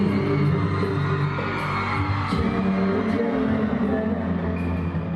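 A large crowd of fans screaming and cheering for a film star, a dense, continuous roar of voices filling the space at high volume throughout.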